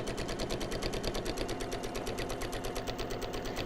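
A sewing machine stitches a fabric napkin with rapid, evenly pulsing needle strokes, a steady mechanical chatter up close and alone.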